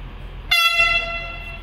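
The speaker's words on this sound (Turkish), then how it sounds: "tren kalktığında evet, şu an trenin kalkması lazım." A TCDD MT 15401 train at Selçuk station sounds a sudden, loud, sustained horn blast with a bright, layered tone that rings on over a low background rumble.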